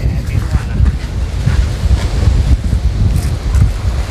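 Strong wind buffets the microphone outdoors on a home balcony under construction, a loud, continuous rumbling roar with gusty swells throughout.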